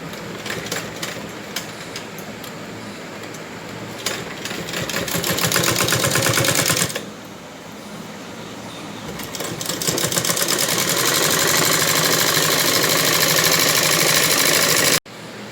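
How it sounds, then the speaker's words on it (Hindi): An electric sewing machine stitches a belt salwar in a long, loud, even whir, pausing briefly partway through before running on again, then stopping abruptly at the end. "अब यहाँ से हम सिलाई लगाना शुरू करेंगे।"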